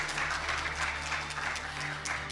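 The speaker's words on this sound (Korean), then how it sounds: "큰 박수 부탁드립니다." Audience applause following a lecture at a unification education talk, a steady wash of clapping filling the room for the whole stretch, moderately loud and continuous without speech over it.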